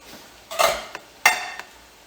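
Cans of tomatoes and Rotel tip into a cooking pot for a kale dish with two quick wet splashing plops and light metallic clinks, close and alone.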